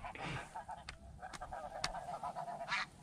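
Snow geese in flight during a spring conservation season hunt, honking in a loose series of calls against a constant windy outdoor background with no talk.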